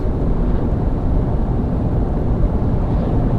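Mazda BT-50 bakkie cruising on a highway at 100 km/h and low revs, giving a steady, dense low rumble of road and engine noise that stays even throughout with no talk.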